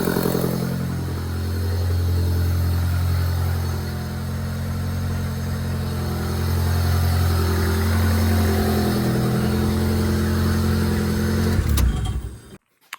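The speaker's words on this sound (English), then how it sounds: "now I'm just gonna try to start it" Turbocharged Honda Del Sol engine running steadily at idle, a loud, continuous low drone close by that holds throughout before cutting off abruptly near the end.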